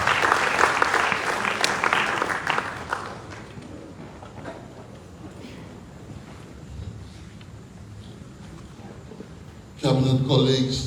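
Audience applause at a 2024 Ministry of Commerce conference on micro, small and medium enterprises breaks out loud and full at the start, then thins to scattered claps and room noise before a sudden loud burst near the end.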